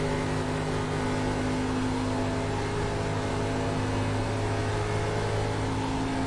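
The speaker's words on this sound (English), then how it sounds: "take a very close listen, a very good listen to how he is on the throttle and how he is when he goes through these turns" Onboard NASCAR race car engine at Michigan in the iRacing simulator, a loud, unbroken high droning roar held steady on throttle with a faint whine throughout.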